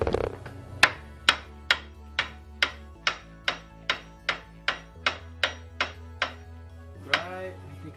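A small hammer strikes repeatedly on a tight CV axle being driven into place under a car, about a dozen sharp metallic blows in an even rhythm, close and loud, with a low hum beneath.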